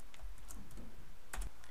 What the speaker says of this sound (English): I'm going to type bang 1.